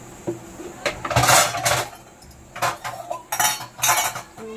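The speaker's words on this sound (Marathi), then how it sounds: "तिथपर्यंत ही जी भांडी आहे ते सर्व ती मी आता वॉश करून घेते" Used cooking utensils and dishes get washed up nearby, with repeated clattering of steel pots and cutlery in irregular bursts, fairly loud and close, and a little faint talk in between.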